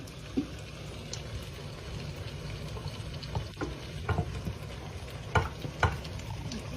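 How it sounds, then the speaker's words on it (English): Flour is stirred into a pot of apra mixture for a Ghanaian family dinner, making a quiet, close, thick churning sound broken by occasional soft knocks of the spoon against the pot, with a faint hiss underneath. "you're gonna add the flour and stir it"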